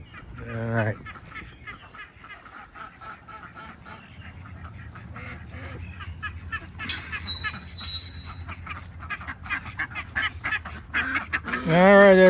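Ducks and geese at a farm quack and honk in repeated bursts, a few loud nearby calls and fainter ones further off, with brief human voices mixed in.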